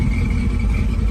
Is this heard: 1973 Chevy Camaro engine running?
yes